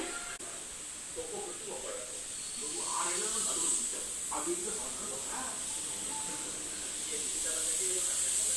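A kitchen pressure cooker releasing steam, a steady high hiss running continuously throughout while someone talks over it.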